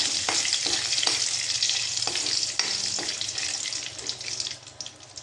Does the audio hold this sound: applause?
no